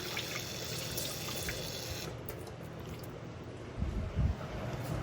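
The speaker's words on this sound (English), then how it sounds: "Rinse off my ladle here." Running tap water pours steadily as a ladle is rinsed under it, a broad continuous wash that softens after a couple of seconds, with a few low clunks near the end, in a kitchen during beef noodle soup preparation.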